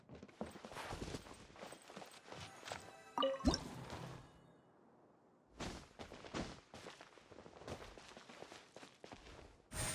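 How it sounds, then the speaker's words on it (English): In the Genshin Impact video game, a water droplet squeezes out of a wall with a run of soft, wet drips and squishy plops. The quick cartoonish effects pause briefly midway, then resume. "Another water droplet just came out from the wall!"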